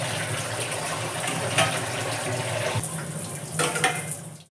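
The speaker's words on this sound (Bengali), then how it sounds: "তার মধ্যে আবার বাসন মেজে নিচ্ছি, কিছুটা মেজে গুছিয়ে নিলাম।" Dishes are washed under a running kitchen tap, a continuous close gush of water with faint clinks and a brief splashy surge near the end before the flow cuts off.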